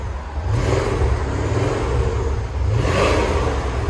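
Deep exhaust of a 2010 Porsche Panamera Turbo 4.8L V8 with dual exhaust and resonator delete, revved twice up close: a rising blip early on, a brief dip back toward idle, then a second surge near the end.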